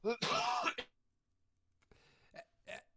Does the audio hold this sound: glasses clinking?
no